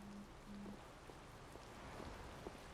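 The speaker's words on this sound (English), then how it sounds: "I believe the ongoing rain and wind are being caused by a Blastia." Rain and wind from the video game Tales of Vesperia form a soft, even hiss throughout, with two brief low tones at the start.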